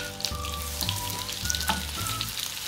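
A chicken cordon bleu roll browns in a frying pan, giving a steady close sizzle with scattered crackling pops and no voices.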